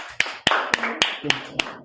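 A small classroom group claps for a student, six or seven crisp, evenly spaced claps in under two seconds, close and fairly loud.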